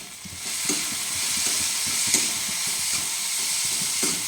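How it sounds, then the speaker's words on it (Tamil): Cluster beans stir-frying in a pan give a continuous close sizzle and hiss, broken by soft repeated scrapes as the spoon turns them. "காய் நல்லா வதங்கிடுது"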